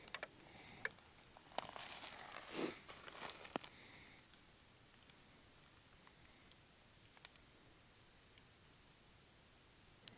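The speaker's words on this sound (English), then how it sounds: "you can hear these crickets" Crickets chirp in the woods at night, a faint, continuous high trill with steady pulsing, heard far off beneath brief rustling and footstep-like noises near the start, otherwise quiet and still.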